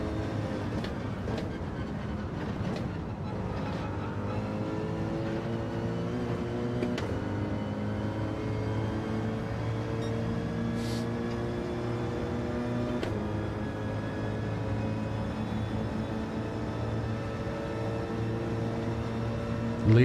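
Naturally aspirated, non-turbo GT3 race car engine in a racing video game, a continuous steady engine drone with shifting pitch that holds for the full twenty seconds.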